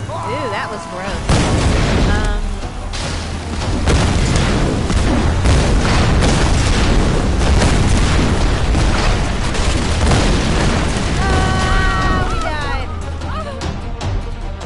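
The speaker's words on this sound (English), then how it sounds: "Fire, explosions," Fire and explosions in the video game Tomb Raider: Definitive Edition, a loud, sustained roar of booms and crackling blasts that builds and continues for several seconds, with the player talking over it at times.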